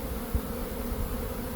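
Dense, continuous buzzing of many honeybees close by, a steady droning hum with no voices.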